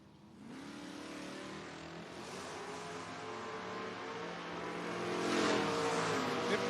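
A Chevrolet Nova and a 1978 Camaro drag racing at a footbrake race, engines revving and building into a rising roar that grows louder toward the end, heard from a moderate distance.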